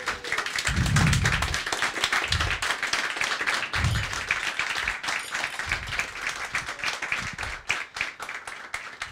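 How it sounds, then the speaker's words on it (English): Applause and clapping from an indoor crowd at the grand opening of a brewery, sustained and dense for several seconds, with scattered low thumps and cheers mixed in. "I think we have a round of applause, everyone."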